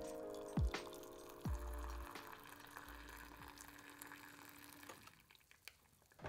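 A Japanese electric hot water kettle slowly dispenses water in a faint, steady trickle with a low pump hum, broken by a few sharp knocks early on before fading quieter.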